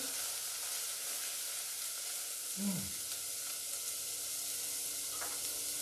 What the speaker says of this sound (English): the next thing we're adding in here is the 3 cloves of garlic